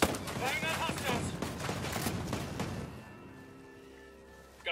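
A rapid burst of dense automatic gunfire in Ghost Recon Breakpoint rattles steadily for about three seconds, then cuts off, leaving a quiet hum.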